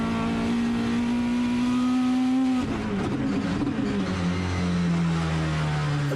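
Thor race car at speed during World Time Attack Challenge 2019, a loud sustained engine tone rising steadily then dropping in pitch after a shift or lift, with some gritty texture midway, no talk.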